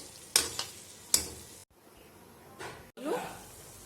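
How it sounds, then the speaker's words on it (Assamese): Hot water poured into chicken cooking in a pan for an Assamese oil-free boiled chicken dish, giving sharp sizzling bursts and stirring scrapes, then a hissing splash as the water hits the hot pan. "এতিয়া আমি ইয়াত গৰম পানী দি দিম"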